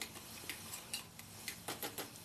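A utensil clicks and scrapes against a pan in quick, light taps while chopped onions fry quietly underneath.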